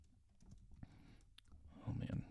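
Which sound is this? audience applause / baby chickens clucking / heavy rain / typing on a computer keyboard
typing on a computer keyboard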